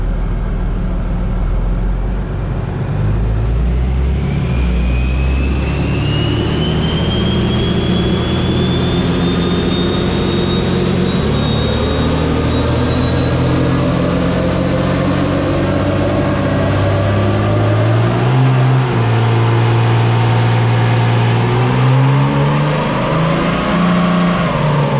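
A Cummins diesel truck engine, a 6.7L or 2006 unit on an injection-timing tune, runs hard on a dyno, loud and continuous, its whine climbing steadily in pitch through a long full-throttle pull.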